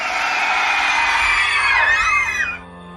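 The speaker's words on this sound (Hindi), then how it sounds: "पूरा किला बहुत सारी चीखों से गूंज पड़ा" A crowd of many people screams together, loud, high and sustained, echoing through an old fort before cutting off into quiet.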